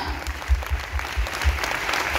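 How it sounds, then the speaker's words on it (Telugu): An audience at a retreat claps hands together, a steady wash of applause with a few louder nearby claps and faint voices mixed in. "ఒకసారి చేతులు ఎత్తిన వాళ్ళందరికీ కూర్చొని వాళ్ళు చప్పట్లు పట్టండి"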